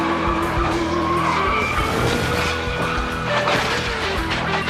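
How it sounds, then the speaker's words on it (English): A NASCAR race car crashing in 1993 gives off a loud, sustained scrubbing skid mixed with engine roar and rumble, with no pause across the whole stretch. "And the car overturned several times."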